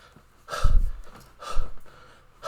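A man imitates a tired basketball player's panting with a few heavy, breathy exhales and gasps, close to the mic, in an uneven rhythm.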